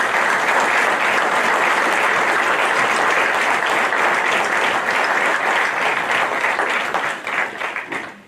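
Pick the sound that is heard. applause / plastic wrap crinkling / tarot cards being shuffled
applause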